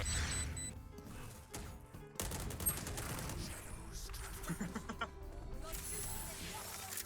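Rapid gunfire from Valorant, with clustered shots and crashes under quiet Turkish commentary, fairly faint and overlapping other game sounds.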